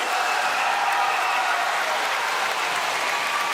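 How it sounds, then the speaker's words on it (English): A big school audience at a public reading-investment event gives a loud, steady round of applause mixed with cheering. The crowd noise is dense and continuous, holding at a constant level throughout. "I want to hear for all of these people an Eastside round of applause"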